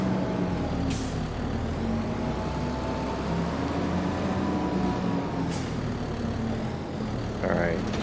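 A Valtra tractor idles with a steady low rumble while it hitches up a lime spreader in the Farming Simulator 25 video game, with two sharp air hisses and someone talking over the engine.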